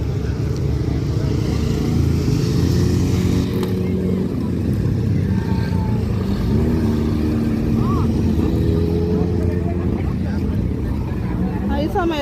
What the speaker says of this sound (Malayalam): ഈ സമയത്താണ് കൂടുതലും ബൈക്കുകൾ ഇവിടെ കാണുന്നത്.